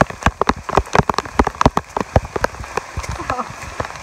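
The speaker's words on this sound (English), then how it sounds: "if you want to know what hiking in the rain is like, this is it. We are getting positively pelted" Heavy rain pelts down on a hiker on Roan Mountain along the Appalachian Trail, a dense stream of loud, close drops spattering on a hood or jacket in irregular bursts.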